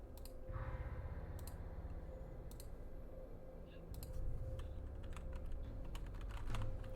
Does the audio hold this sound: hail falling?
no